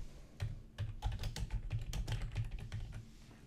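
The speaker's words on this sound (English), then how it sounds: "I start by typing the name of the template." Typing on a computer keyboard: a quick, uneven run of close, crisp key clicks and taps, quiet and alone, with no voices.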